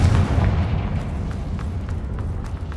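A Confringo spell explodes in a video game as a dense, rumbling blast that decays into a crackling, noisy tail with scattered small pops.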